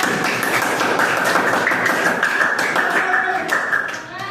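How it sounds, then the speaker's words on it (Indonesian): A classroom full of people clapping steadily together, a dense patter of applause that fades slightly toward the end. "kita kasih tepuk tangan sekali lagi"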